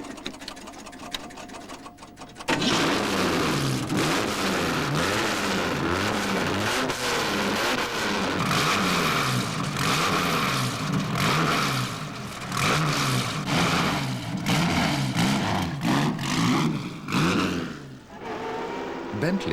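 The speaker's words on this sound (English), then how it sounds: "The adventure starts just starting the car up." A classic Bentley car engine cranks and catches, then runs and revs with a loud, throbbing, rhythmic rumble up close, pulsing and rising in pitch near the end.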